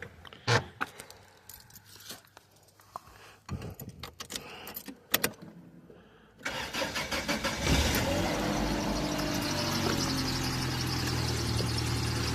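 A Dodge Aries is unlocked and started: keys jangle and a few clicks and knocks, then the engine cranks and catches, settling into a loud, steady idle close by.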